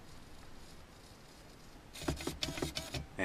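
Brushless RC servo motor swinging its arm as it follows a radio transmitter: after a quiet stretch, a series of quick, sharp whirring buzzes comes close together, fairly loud and unaccompanied by talk.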